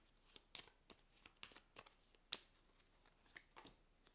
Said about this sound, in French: Et là, je remélange le tout.